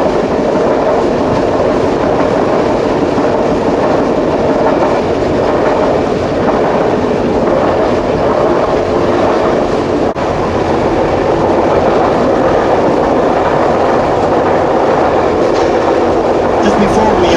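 Rocky Mountaineer train heard from the rear car running on the rails, a loud continuous rumble with rhythmic clickety-clack and rattling throughout, a voice faintly beneath.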